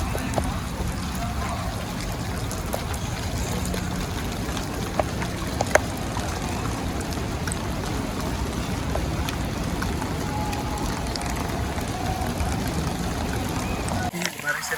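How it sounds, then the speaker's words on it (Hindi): Heavy rain pouring at Masjid al-Haram during Ramadan, a dense continuous wash of falling water and spatter, loud and steady throughout, with a brief muffled handling noise near the end. "और अभी तेज़ है बारिश"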